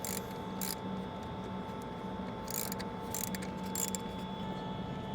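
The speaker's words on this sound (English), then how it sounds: "So a little extension and ratchet. Break these loose and remove these nuts." Ratchet on an extension breaking loose and backing off 10mm nuts on the intake of a 2024-2026 Mustang EcoBoost, a few short bursts of clicking over a steady background hum, no voices.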